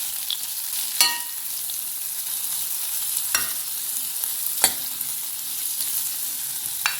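Chopped onion sizzling steadily in hot oil in a pan for tomato soup, a continuous close frying hiss broken by a few sharp clinks of a spoon stirring, no talk.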